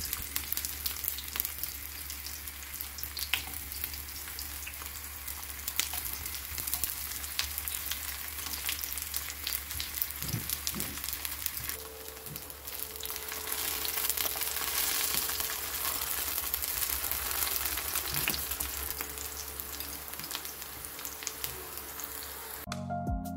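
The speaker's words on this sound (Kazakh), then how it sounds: "Одан кейін табаға салып, екі бетін қызартып, қуырып аламыз." Zucchini slices fry in oil in a pan, a continuous close sizzle with occasional pops and crackles that holds steady before cutting off abruptly at the end.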